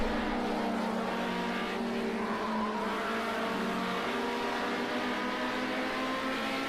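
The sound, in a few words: BMW 2002 race cars driving in Project Cars 2 video game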